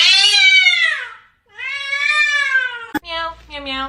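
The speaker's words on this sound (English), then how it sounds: "Let me hear a meow." A kitten meows repeatedly and loudly up close: two long drawn-out cries, then a short sharp click and a few quicker meows.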